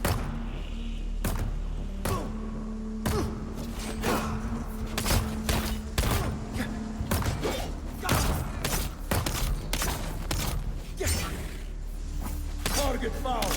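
Turret fire in Dune: Awakening, rapid bursts of sharp shots repeating across the stretch amid mechanical clanks and thuds, loud and close within busy game combat sound, with a voice talking over it.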